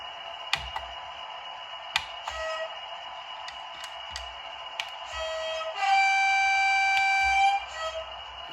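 A budget DCC model railway locomotive sounding its horn: a steady tonal drone with faint clicks, then a sustained two-tone toot lasting about a second and a half, fairly loud and close, with no talking.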